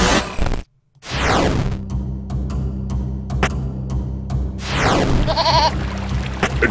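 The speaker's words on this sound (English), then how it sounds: "A goat!" A goat bleats in a video game, a bright, wavering cry set among sharp whooshes and clicks in a busy game soundtrack, with a brief silent gap near the start.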